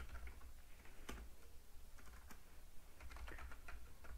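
Fast, steady clicking of keys on a computer keyboard, close and clear, runs throughout with brief pauses.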